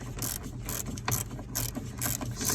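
A ratchet clicks in short, rapid bursts, about six in a row, while tightening gas pedal bolts on a 2009 Chevy Express van, heard close and fairly quiet.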